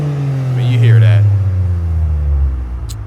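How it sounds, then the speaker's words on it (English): A Toyota GR Corolla fitted with a 2J Racing exhaust and mid-pipe revs up, a deep rising engine drone that swells then settles into a rumbling idle, loud and close, with someone talking over it. "We got the sounds, we got the exhaust note."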